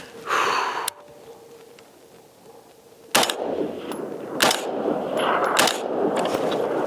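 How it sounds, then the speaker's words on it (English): ZEV Core Combat Rifle fired from a standing position at a 200-yard C-zone steel target outdoors; three loud, sharp gunshots ring out spaced about a second apart, each with a lingering outdoor echo, after a brief rustle and a quiet pause. "Just for shits and giggles, I'm gonna try a standing shot at this 200-yard C-zone."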